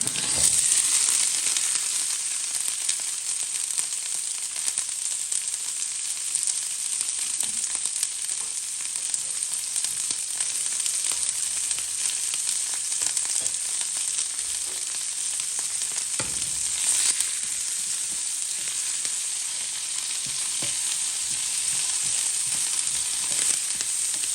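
Onions and cumin seeds fry in a pan for a Jaffna-style drumstick leaf stir fry, giving a steady, dense sizzle with occasional stirring scrapes, close and continuous throughout with no talking.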